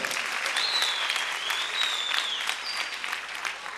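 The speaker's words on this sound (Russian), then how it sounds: "Аплодисменты, друзья!" Steady, full applause from a concert audience at a Chechen reporting concert, many hands clapping evenly throughout with a faint high whistle or tone drifting above the crowd.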